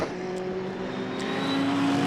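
GT race cars, a Mercedes among them, roar past on the Donington GP circuit during a GT Cup sprint race, with a loud, sustained engine note and no talk.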